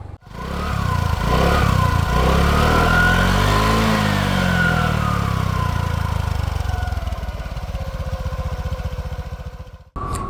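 A scooter engine drones steadily and loudly while riding a highway between Kishoreganj and Mymensingh, its pitch rising and falling slightly under constant wind rush before cutting out abruptly near the end.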